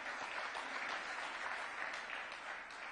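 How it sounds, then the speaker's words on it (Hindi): Women in the audience at a political address clap together in a steady, moderately faint patter that holds evenly throughout. "महिलाओं ने तो ताली बजा दी, लेकिन पुरुषों ने नहीं बजाई।"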